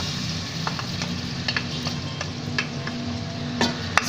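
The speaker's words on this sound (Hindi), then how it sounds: "इसको थोड़ा सा मैं भून लेती हूँ ताकि इसका कच्चापन खत्म हो" Garlic ginger paste fries in hot oil in a home kitchen, giving a steady close sizzle with faint scattered pops and spoon-stirring clicks, no voices.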